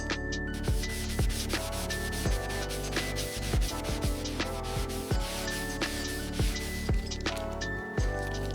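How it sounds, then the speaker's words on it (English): A stiff wire brush scrubs corrosion off a 1986 Suzuki GSX-R750 motorcycle frame, steady close rasping strokes in a slow repeated rhythm with occasional light metallic clinks, no voices. "The stiff wire brush should take care of this corrosion."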